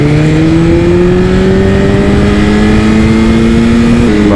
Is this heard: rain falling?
no